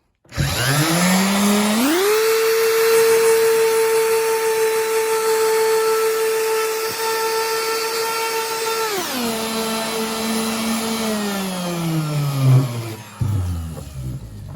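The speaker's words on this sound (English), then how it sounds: "So very lightly, you just have to go around with the sander." Power sander working fleece off wood on a car audio center console, loud and close, spinning up to a steady high whine, holding, then winding down, with brief handling knocks at the end.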